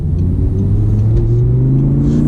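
An Audi R8 V10 with a gated manual pulls away, its engine a loud, steady low drone whose pitch climbs gradually as the car accelerates.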